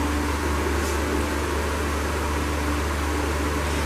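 An electric fan runs steadily in a room where cold process soap is being made, giving a constant whooshing hum with a low drone and no change in level throughout.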